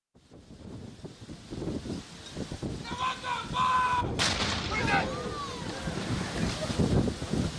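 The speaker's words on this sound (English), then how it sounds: "carrying out a gunfire salute and rifle volley to salute the royal birth" A military gunfire salute and rifle volley marks a royal birth, the child of the Duke and Duchess of Cambridge, with a sharp blast cutting through outdoor wind and background sound.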